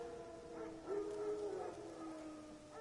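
Wild dogs howl faintly in the distance in a video game, with several overlapping wavering howls rising and falling over a quiet background.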